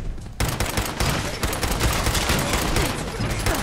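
Sustained gunfire from the Fallout 4 video game during a firefight near Diamond City: dense, continuous bursts of shots and rapid automatic fire throughout, loud and close, with no voices.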